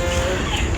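A chicken clucks in short, busy bursts close by, with steady rustling and noise underneath, the bird kept inside a gift box as a prank present.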